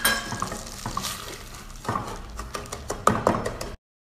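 Sugar melting in melted butter in a pan, a soft steady sizzle with stirring scrapes and a few sharper utensil clinks, close and moderately loud, ending abruptly in silence.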